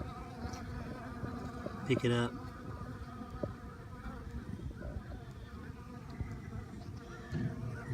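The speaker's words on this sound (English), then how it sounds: "They're cleaning it up. They're everywhere. Wow. A lot of bees." Honey bees swarm over a dead hive, cleaning it out with a steady, close buzzing that rises and falls as individual bees pass near, while a person speaks briefly.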